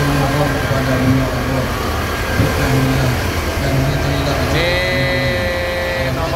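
A coach bus departs with many other free homecoming buses for a Lebaran trip, its mid-pitched engine droning loudly and steadily under a crowded background, with a rising tonal whine near the end and people talking nearby.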